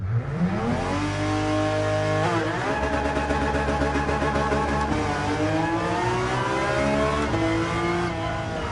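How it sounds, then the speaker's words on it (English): A GT4 race car in Gran Turismo 7 revs hard for a launch, its engine note climbing and holding in a loud, buzzing, harmonic whine with a brief dip around the middle, close and continuous, no voices. "Revved it up to about what the stock cars launch at."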